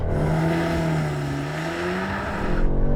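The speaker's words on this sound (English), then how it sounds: "I'm going to launch the car." An Audi S3 launches under launch control, its engine a steady, droning roar that builds as the car pulls away, fairly close and continuous throughout with no voices over it.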